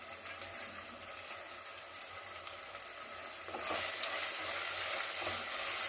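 Grated carrot and potato frying in a pan for masala carrot pulao, a steady soft sizzle with occasional stirring scrapes, growing denser and louder toward the end.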